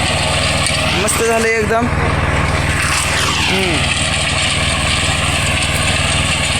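Mahindra Jivo 245 DI tractor pulling a 3-foot rotavator through a sugarcane field, a loud steady engine drone with a brief spoken remark over it.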